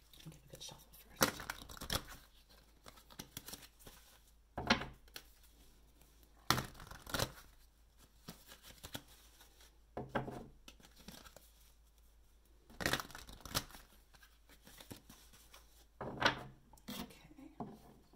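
A deck of tarot cards is shuffled repeatedly for a reading, with bursts of riffling and slapping card sounds recurring roughly every few seconds, close and moderately loud between quiet pauses.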